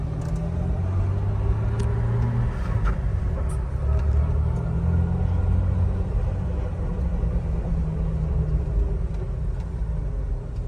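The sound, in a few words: Jeep Wrangler Sahara engine revving while driving off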